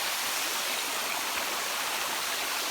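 A stream and waterfall in the Borneo rainforest of Ulu Temburong National Park, Brunei, rush with a loud, steady, dense broadband roar of falling water, constant and close with no other sounds.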